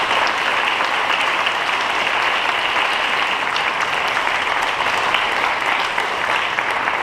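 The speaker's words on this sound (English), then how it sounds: "I'd love to give them a round of applause to say thank you for that." Steady, even audience applause fills a college athletics hall of fame induction ceremony, a dense wash of clapping held at constant level throughout without voices breaking through.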